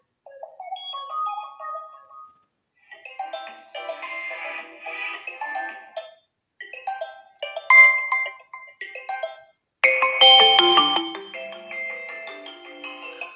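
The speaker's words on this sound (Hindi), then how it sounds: "यहाँ से आ जाते हैं फ़ोन रिंगटोन्स में और यहाँ से रिंगटोन्स को चला लेते हैं" A series of electronic ringtones from a Vivo Y20 2021 phone play one after another through its single small speaker, each melodic snippet separated by brief silences, the last one loudest.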